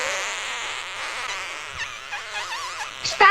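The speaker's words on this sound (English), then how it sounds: "But the flies kept on buzzing until the little tailor could stand it no more" Cartoon flies buzzing around a little tailor at his lunch, a wavering, swooping drone that rises and falls steadily for a few seconds, then ends in a sharper burst.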